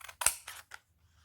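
A few quick snips of scissors cutting paper while making an advent calendar craft, close and quiet, three short crisp cuts in about a second.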